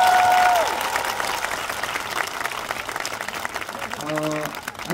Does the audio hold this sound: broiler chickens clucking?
no